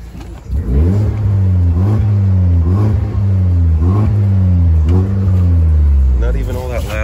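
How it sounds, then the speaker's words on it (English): Audi A4 2.0T engine revving repeatedly through an exhaust with two resonators, the revs climbing and falling in steady loud surges that top out around 3,000 rpm, close and continuous with no pauses. "It stops revving at 3 grand."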